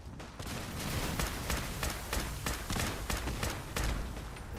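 Rapid gunfire in Fallout 4, a steady stream of sharp shots over a dense, noisy game background, continuous and fairly loud throughout.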